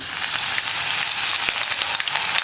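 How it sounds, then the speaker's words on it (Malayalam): Ginger and garlic added to hot oil with mustard seeds for a sardine pickle, giving a loud, steady close sizzle with faint crackles and a few small pops throughout. "ഇഞ്ചിയും വെളുത്തുള്ളിയും ചേർക്കാം."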